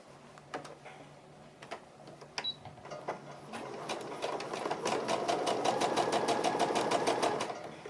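A sewing machine stitches fabric slowly at first with a few separate clacks, then settles into a steady fast rhythmic run of needle strokes, close and clear.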